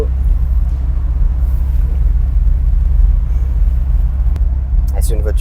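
A Dodge Viper SRT-10 rumbles low and steady while driving in first gear, a loud continuous engine drone under cabin noise, with a brief voice near the end.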